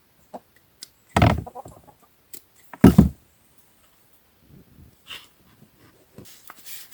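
A few scattered hen clucks and squawks, two louder bursts among quiet gaps, with faint soft murmuring from the birds in between.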